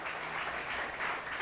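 A church congregation applauds during a Sunday service, a dense, steady wash of clapping from many hands that holds throughout.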